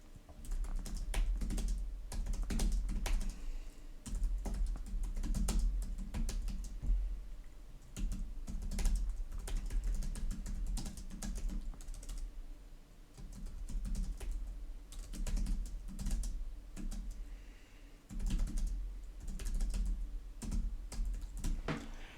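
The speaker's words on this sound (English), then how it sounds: "we're going to go back here and type in the details again" Steady, rapid typing on a computer keyboard while entering an image description for AI inpainting, close and continuous with brief pauses and no voices.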